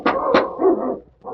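Two mastiffs barking close by, a couple of loud deep barks in quick succession followed by a lower growling bark, with a brief pause before another starts.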